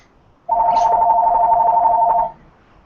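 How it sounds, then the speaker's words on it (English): A house telephone rings in one sustained electronic burst lasting nearly two seconds, loud and close, with no talk over it. "I'll be happy to answer that once this phone stops ringing."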